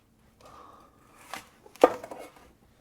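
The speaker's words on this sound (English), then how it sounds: "And we'll chop each one of these guys in half." Fruit chopped in half with a kitchen knife on a cutting board, quiet handling followed by a couple of soft thuds and one sharp, close knife strike.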